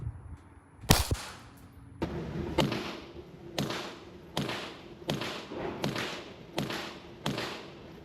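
Suppressed .22 rifle firing CCI Quiet subsonic rounds through an Anechoic Pipsqueak suppressor: a sharp first crack, then seven quiet evenly spaced shots, each a brief dull snap with a short mechanical click, close and alone.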